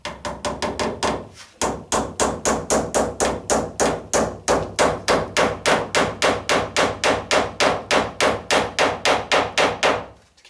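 A hammer drives pins into a roof batten during a tile vent installation, a steady rapid run of about forty sharp, loud strikes after a brief pause near the start, close and alone without any talk.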